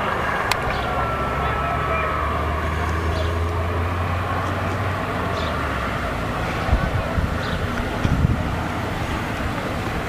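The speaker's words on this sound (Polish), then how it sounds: "Wiatr jest." Wind rumbles and buffets the microphone steadily throughout, a loud, continuous outdoor roar under threatening clouds before a downpour.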